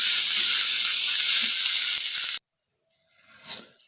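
Dry green peas roasting in a pan for crunchy nimko, a loud steady sizzling hiss for over two seconds that cuts off abruptly, followed by a faint brief scrape of stirring.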